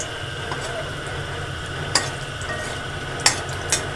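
Pakoras coated in gram flour batter fry in hot oil with a low, steady sizzle, broken by a few sharp clicks and taps of a utensil against the pan.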